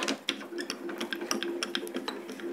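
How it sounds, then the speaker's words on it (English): A craft die and base plate are fed through a hand-cranked die cutting machine, a continuous close whirring and clicking with rapid mechanical ticks for a few seconds, no voice. "Pop that through the machine."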